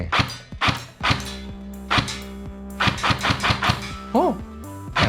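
Electric gel blaster P90 shooting in semi-auto, a string of sharp thunking shots at irregular spacing, some in quick pairs, close and fairly loud, with brief motor whirring and a faint voice-like tone near the end.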